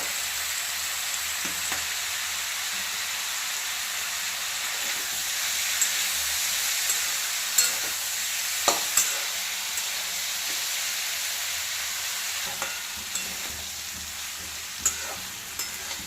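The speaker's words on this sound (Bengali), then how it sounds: "এটা এরকম ভাজা ভাজাই হবে।" Food with tomato and chili flakes sizzles and hisses steadily in a hot pan, with occasional scrapes and clinks of stirring, close up and without talk.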